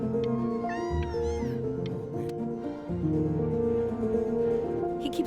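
A cat meows a few times early on in the VR game Before Your Eyes, short rising-and-falling cries over a sustained layer of soft game music.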